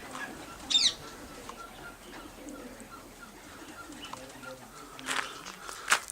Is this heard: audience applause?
no